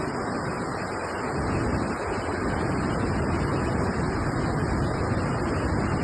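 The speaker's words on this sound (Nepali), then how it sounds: "टिस्टा खोला बढेर रोडसम्म आइसकेको छ।" The flooded Teesta river in Sikkim after a cloudburst, rushing in a loud, constant roar of churning water that fills the whole scene without pause.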